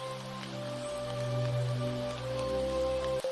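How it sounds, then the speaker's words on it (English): Heavy rain pours outside as a constant hissing wash, blended with calm, sustained background music tones from start to finish. "Wow, the rain is stronger outside."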